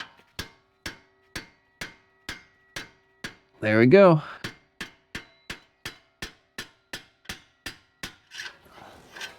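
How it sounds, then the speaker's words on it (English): Hammer blows on the end of a pry bar to loosen the right passenger CV axle of a 2003-2006 Acura MDX, a steady series of sharp metallic strikes, briefly interrupted by a squealing burst, with someone speaking briefly near the end. "And then we'll take our hammer on the end and hopefully we can lodge it loose."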